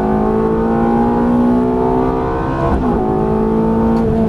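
A Ferrari F430 engine pulls hard under throttle from the driver's seat, a loud, steady tonal roar with rising harmonics and a brief dip before it keeps accelerating.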